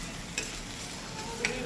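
Onions frying in a pan give a low, steady sizzle with a couple of faint clinks from stirring, quiet throughout and with no voices.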